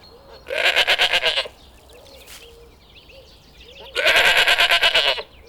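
Two loud, strongly quavering goat bleats ring out close by, each about a second long with a rapid pulsing tremble, separated by a quiet gap with faint background chirps.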